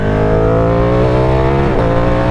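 A motorcycle accelerating through traffic, its engine loud and close with a steady harmonic drone whose pitch shifts and climbs briefly near the end.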